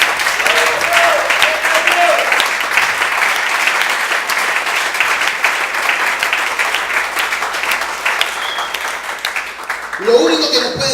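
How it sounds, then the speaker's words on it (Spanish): Church congregation applauding during a sermon, loud sustained clapping filling the room, with a voice speaking over it near the end. "Denle, Señor, un aplauso fuerte a Cristo"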